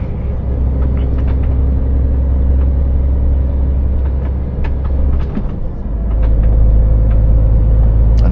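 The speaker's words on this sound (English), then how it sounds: "And this thing is so heavy, it's taking me an age to bloody accelerate up to 40." A heavy laden vehicle pulls slowly away along a road toward Dover, its engine a loud, steady low rumble that dips briefly then swells louder as it labours to build speed, with faint clunks and hisses over the drone.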